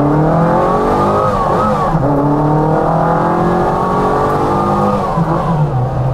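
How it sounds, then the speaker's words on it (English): A small twin cam Mini engine revs hard and close up, pitch rising and falling in a steady, raspy, bike-like whine that holds loud throughout. "It really sounds very different from a traditional A-Series mini engine"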